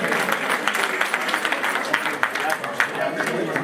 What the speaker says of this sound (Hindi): तालियों से बजाइए।